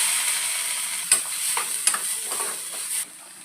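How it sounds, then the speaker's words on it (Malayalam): Mustard seeds splutter in hot coconut oil in a pan while cooking jackfruit-rind stir-fry: a steady close hiss broken by a few sharp pops and crackles, with no talking. "എണ്ണ ഒഴിച്ചിട്ട് വെളിച്ചെണ്ണ കടുക് പൊട്ടട്ടെ."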